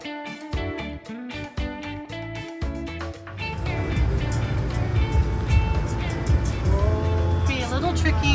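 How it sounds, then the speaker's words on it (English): A 41-foot RV rig rolls slowly along a narrow road near Saint George Island on Florida's Forgotten Coast, a steady engine and tire rumble swelling and holding after some earlier tonal sounds, with a voice over it. "Bring in our 41-foot rig here."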